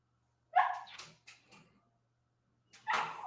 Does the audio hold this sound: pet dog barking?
yes